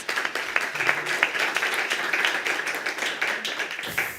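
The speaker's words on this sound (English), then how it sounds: "A round of applause for Bakary, please." Audience applause for a speaker at a cocoa sector report launch, steady broadband clapping filling the room for a few seconds with faint voices underneath.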